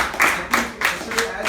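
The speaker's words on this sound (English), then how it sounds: "I think we should also clap for the division director for a phenomenal show yesterday." A small group claps at a club meeting, a few spaced hand claps, close and moderately loud, mixed with faint background voices.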